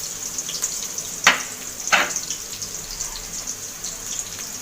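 Chopped onion hitting hot oil in a wok for bitter gourd bhaji, a steady bright sizzle broken by two sharp utensil clatters near the start, close and moderately loud.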